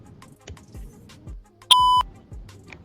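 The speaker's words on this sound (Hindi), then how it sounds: "तो आपको अब एक बीप सुनाई दे गई होगी। इसका मतलब है कि एक और पार्टी ने इस सेशन को ज्वाइन कर लिया है।" A single short electronic tone from NVDA screen reader remote access, sounding as another party joins the session, clear and loud above a backdrop of faint low rhythmic clicks and thumps.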